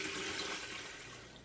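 Water from half-gallon jugs pours into a homemade budget water filter, a steady close rushing splash that slowly eases off.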